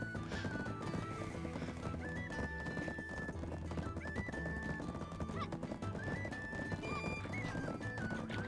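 Horses gallop in a Black Desert horse race, with rapid overlapping hoofbeats, repeated neighs and whinnies, and game music tones layered on top, loud and continuous with no talking.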